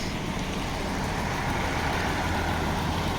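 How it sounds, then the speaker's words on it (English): A steady, broad road roar of a vehicle passing close by, continuous tyre rumble on tarmac with no voices. "And this car, the only noise is off the wheels."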